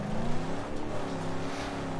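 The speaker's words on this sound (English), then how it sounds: "It sounds sick when it's idling in that car." A car engine in the video game Mad Max idles with a low, steady rumble, loud and continuous for a couple of seconds.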